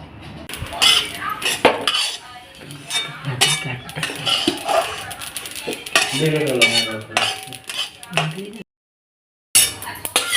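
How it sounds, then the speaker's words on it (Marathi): Poppy seeds dry-roasted in a pan and stirred with a metal utensil, making loud, close clattering and scraping against the pan while a person talks throughout, with a brief silent gap near the end. "आता आई भाजून घेत आहे खसखस"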